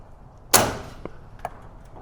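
A residential garage door shifted on its track during a cable replacement, a sharp metallic clank followed by a few lighter knocks and rattles, close and otherwise quiet.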